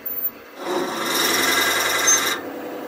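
A 41 mm drill bit bores into wood on a lathe, producing a close, steady rasping grind that lasts nearly two seconds before it stops abruptly.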